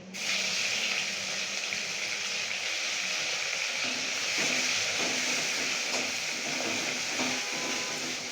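Grated raw mango hitting hot oil with asafoetida and spices for a mango pickle, giving a loud, steady hissing sizzle that runs throughout with small crackles, close and with no voices.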